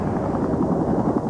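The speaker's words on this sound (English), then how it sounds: "Traveling in unmarked black helicopters" Unmarked black helicopters fly over the sea, a loud, close, continuous rotor thump and engine drone with a steady pulsing rhythm, no voices present.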